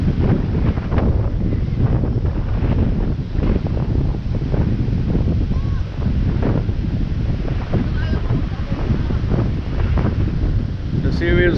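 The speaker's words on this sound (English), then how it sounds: "But I enjoy the sound of the waves." Ocean waves on White Beach in Boracay wash continuously ashore under heavy wind buffeting, a dense, steady roar with faint scattered background sounds.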